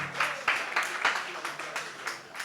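Applause from guests at a small, intimate Ward F campaign fundraiser, a steady patter of clapping with soft swells running through the whole moment, moderately close and unbroken by speech.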